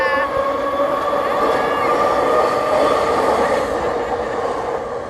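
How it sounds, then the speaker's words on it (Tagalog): A train passes in Canada, producing a loud, continuous rumbling roar heard up close that holds steady for the whole stretch. "Yan na yung train. Papunta yan ng Canada."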